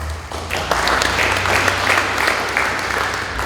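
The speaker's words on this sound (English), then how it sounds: "I don't know that needed a clap" An audience at an anniversary forum meet breaks into a burst of applause, dense clapping that holds steady for a few seconds in a room.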